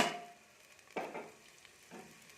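Onions and chillies in a pan, stirred in three separate strokes, each raising a short burst of sizzle and scraping that fades back to near quiet between them.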